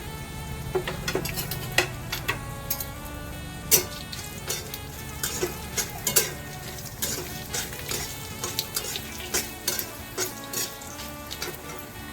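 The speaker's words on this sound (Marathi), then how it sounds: "आपण आधी खडा मसाला भाजून घेऊया। हा सर्व एकत्रच भाजूया" Whole spices dry-roast in a pan for a chicken liver masala, giving a steady sizzle-like hiss dotted with many small crackles and rattles as they are stirred, close and continuous, with no talk.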